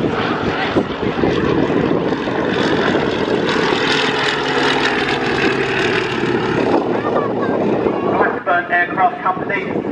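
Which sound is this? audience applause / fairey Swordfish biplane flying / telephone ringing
fairey Swordfish biplane flying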